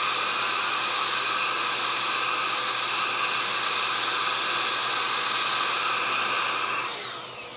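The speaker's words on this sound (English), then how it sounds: "we sucked all the dust right out the side so it didn't just get shoved into these little fan grates" A vacuum cleaner pulls dust out through the side vents of an Asus ROG Strix G15 laptop, a loud, steady motor whine with a high tone that holds throughout, then winds down at the end.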